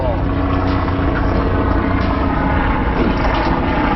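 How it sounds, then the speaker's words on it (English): Helicopter flying overhead while squid fishing from a small boat, a steady broadband rotor and engine drone that stays loud and constant throughout, with no clear pauses. "I reckon the helicopter scared him off"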